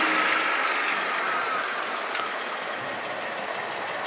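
A car engine idles steadily during an HHO hydrogen carbon-cleaning treatment, giving a constant mid-range engine drone with a broad hiss that stays level throughout.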